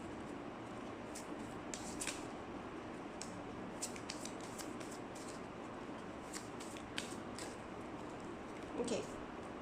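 Soft, scattered shuffling and riffling of oracle cards, with light taps and slides that come irregularly over quiet background noise.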